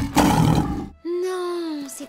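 A lion's roar from a video playing inside a cartoon scene, rising after a burst of noisy clatter and then holding as a long, loud, tonal bellow that trails off near the end.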